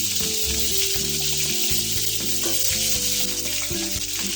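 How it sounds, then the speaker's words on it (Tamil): Brinjal pieces sizzle and fry in hot oil in a pan, a loud, steady crackling hiss that runs without a break and with no talking. "ஆயிலே கத்திரிக்காய் கொஞ்சம் நல்லா வெந்து வரட்டும்."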